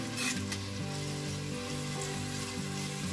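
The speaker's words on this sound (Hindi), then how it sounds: "प्याज को चलाते रहना है।" Chopped onions sizzle steadily in hot oil in a pan while being stirred for a Maharashtrian moth bean curry, a close, continuous crackling fry with faint scraping from the stirring.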